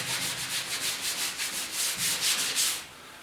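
Hand sanding with a piece of 320-grit sandpaper on the painted door of a '56 Mercury, giving a steady run of close, rhythmic rubbing strokes that stop just before the end.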